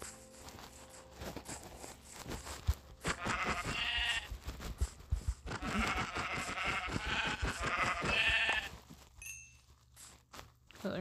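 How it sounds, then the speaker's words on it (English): Sheep in the video game Minecraft bleat in several wavering bursts mixed with footstep crunches and clicks, while a player talks over parts of the sound; the bleats are moderately loud and come in a couple of clusters. "See a sheep. Sheep, sheep, sheep, sheep."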